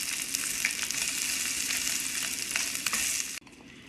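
Meat sizzling in a hot pan for sukiyaki, a steady, close, bright frying hiss with a few faint scrapes, cutting off abruptly near the end.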